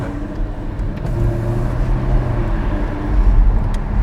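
A Jaguar F-Type engine hums steadily at low pitch as the car pulls away, a constant road rumble with no voices.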